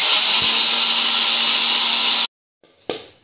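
A mixer grinder whirs loudly and steadily as it grinds roasted lentils into a coarse powder, then cuts off abruptly, followed by a brief clunk of the jar.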